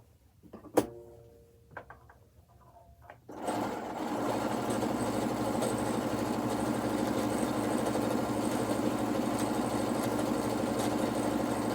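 A sewing machine runs steadily for several seconds after a few faint handling clicks, its even motor hum and stitching rattle close and loud, with a bobbin threaded underneath.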